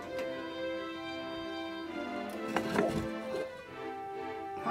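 A kitchen knife cuts mushrooms into quarters with a few soft, quick chops over a steady musical background.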